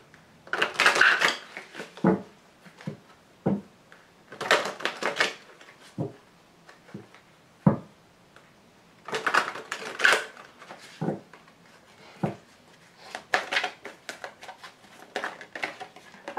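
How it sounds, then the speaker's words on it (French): Tarot cards are shuffled and laid down in a quiet room, a run of crisp papery riffles and sharp slaps coming in irregular bursts with short pauses between them, close by and fairly faint. "je vais tirer toutes les cartes"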